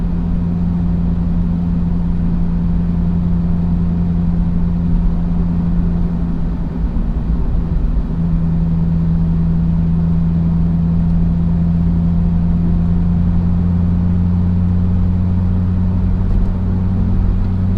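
A car creeps around a parking lot with a steady, low engine hum and road drone, loud and close throughout, with no speech.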